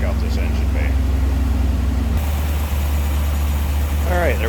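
A 1963 Ford Thunderbird's 390 V8 idles steadily with a low, even rumble, nearby and continuous, with an engine-bay hood open and some background voices.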